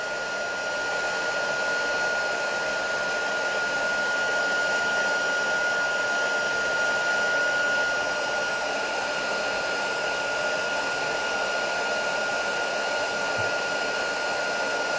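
A heat embossing tool blows steadily while melting embossing powder on a craft project, a constant loud fan-like whir with a high whine, unbroken for the whole stretch.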